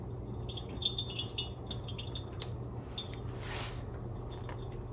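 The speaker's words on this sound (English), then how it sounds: "You can see it's just dripping like crazy." Homemade yogurt whey drips and squishes faintly as the yogurt is squeezed, with a soft wet burst near the end over a quiet room hum.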